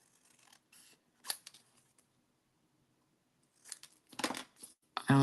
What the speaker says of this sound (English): I'm just gonna cut this off.